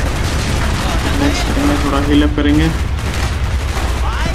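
Rapid bursts of gunfire crackle beneath someone talking in the video game Call of Duty Black Ops, steady and loud throughout, with a busy mix of shots and effects.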